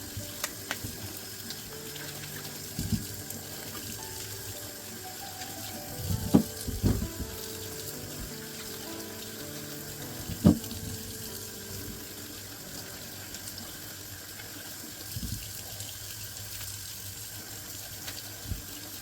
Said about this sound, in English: we're going to wash them, scrub them, make sure all the dirt is